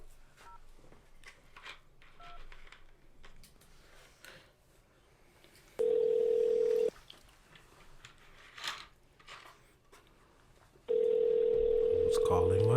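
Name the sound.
phone ringing, incoming call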